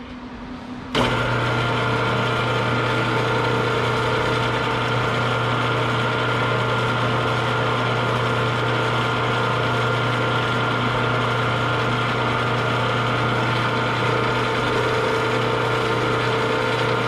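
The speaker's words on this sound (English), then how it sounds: "going with a 3/16 drill bit." Power drill boring with a 3/16 drill bit during a safety modification on a pull-behind lawn aerator, starting abruptly and then whining steadily at a loud, even pitch for the rest of the clip.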